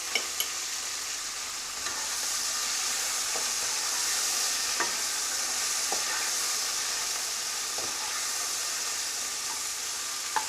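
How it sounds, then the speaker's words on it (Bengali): Broccoli and beans shallow-frying in hot oil with a pinch of salt for chicken tahari, a steady close sizzle with a few sharp clicks and taps of stirring over the bright, hissing spatter. "এবারে এই তেলের মধ্যে আমরা ব্রকলিগুলোকে ফ্রাই করে নেব"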